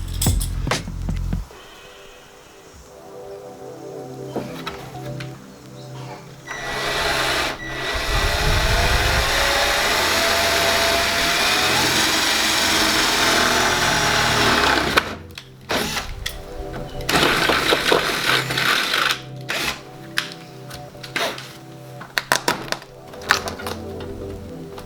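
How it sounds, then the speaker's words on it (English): Power drill boring through the plastic boot trim of a Mazda MX-5, a harsh whirring burst lasting several seconds amid quieter workshop clatter and handling noises. "I've inadvertently drilled a hole through the trim"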